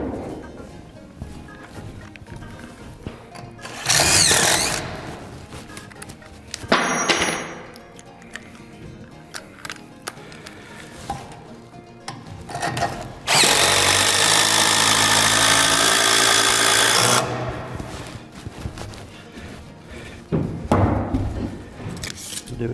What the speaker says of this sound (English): We're going to put our drill, and we're going to pre-drill our hole